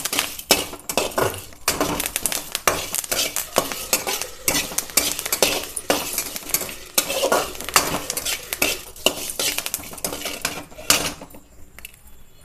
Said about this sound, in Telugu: కొంచెం కరివేపాకు కూడా ఫ్రై చేద్దాం